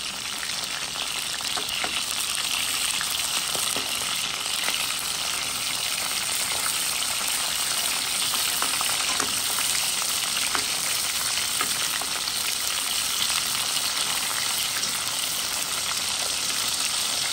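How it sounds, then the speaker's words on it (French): Sausages frying in hot oil, a steady dense sizzle and crackle running continuously at close range with no pauses and no voices. "Les saucisses sont en train de frire parce qu'il faut les faire frire, bien revenir dans l'huile chaude."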